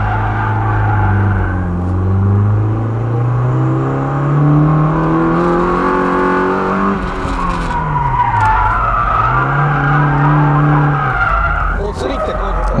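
A car drifting under e-brake and countersteer, tires squealing loudly in long sweeping pitch bends while the engine revs and whirs beneath, losing control near the end.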